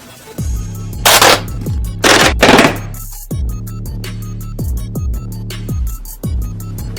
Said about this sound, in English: Let's go shoot it and try it out.